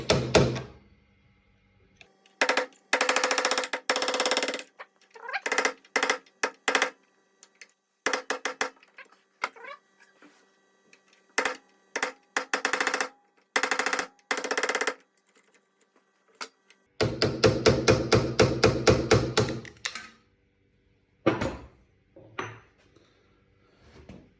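Sharp metallic hammer blows come in irregular bursts, with a long rapid run of strikes near the end and quiet pauses between.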